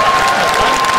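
A crowd applauds steadily at an M-1 Challenge MMA event in St. Petersburg, dense continuous clapping filling the arena with a faint tone running underneath.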